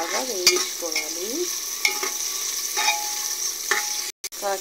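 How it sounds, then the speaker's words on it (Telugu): Chopped onion and green chili pieces fry in oil, giving a continuous sizzle with several scraping stirs of a utensil against the pan. "పచ్చిమిర్చి ముక్కలు వేసి బాగా వేయించుకోవాలి."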